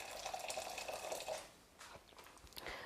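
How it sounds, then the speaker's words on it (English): Boiling water pours steadily into a bowl of frozen peas for about a second and a half, a close, hissing liquid stream, then trails off into a few scattered splashes and clinks. "So just a little bit of boiling water in there."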